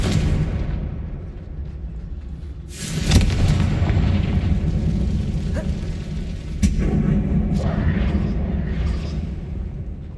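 Confringo fire spell cast in Hogwarts Legacy, a sudden booming blast that bursts up over a low rumbling game ambience and then leaves a lingering roar, with a smaller crack a few seconds later.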